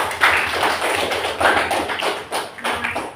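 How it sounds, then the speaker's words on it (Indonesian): Students in a classroom clap together, a dense run of close hand claps with uneven bursts and swells across the whole stretch, no talk over it. "Berikan aplaus dulu."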